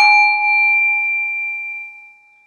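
A small bell is dinged once to pace a chapel breathing exercise, ringing with a clear bright tone that decays slowly over a couple of seconds, close and alone.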